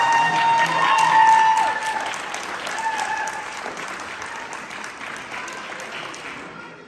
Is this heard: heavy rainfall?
no